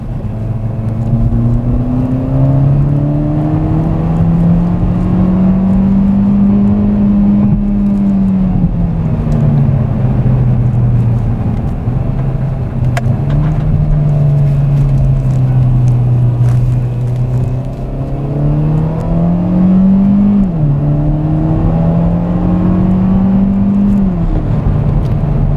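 A 2018 Hyundai Elantra Sport drives with a steady engine drone that rises and falls as gears are shifted with the paddle shifters, with no talk over it.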